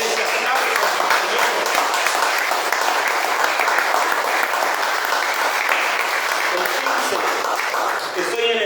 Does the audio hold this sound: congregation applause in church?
yes